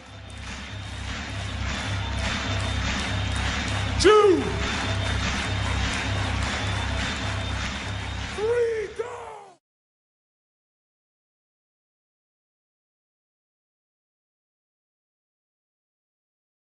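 A large seminar audience claps together in a dense, steady burst of applause for about nine seconds, with a brief voice cutting through partway, before falling silent.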